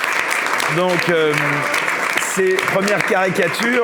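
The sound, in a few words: audience applause for the cartoonist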